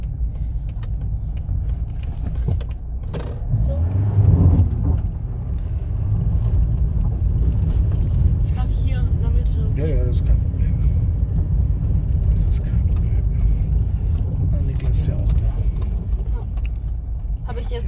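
A car driven by a learner in second gear gives a steady low engine and road rumble throughout, with people talking inside the cabin over it.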